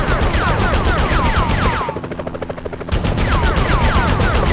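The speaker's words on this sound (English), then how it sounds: "Enough with the shooting already!" Machine gun fire from a police helicopter in the PS1 Spider-Man game: loud rapid bursts over a thudding rotor drone, pausing briefly for about a second as the rotor hum comes through, then resuming at full intensity.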